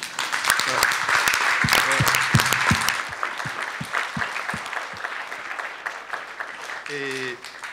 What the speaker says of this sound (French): je voudrais aussi que nous nous applaudissions tous mutuellement.